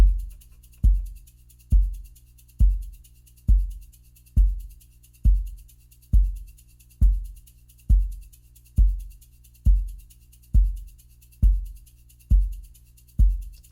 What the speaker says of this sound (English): I programmed a quarter note kick here with battery